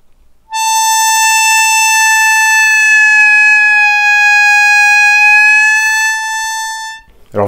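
A harmonica holds one long, loud, steady note for about six seconds, sliding slightly downward as it is bent, then cuts off abruptly.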